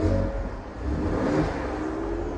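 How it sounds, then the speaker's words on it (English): Revs from a Ford Ranger Raptor engine in normal drive mode rise and fall briefly in a couple of close, moderate blips, a throaty mid-toned rumble with no talking. "So let me give it a few revs."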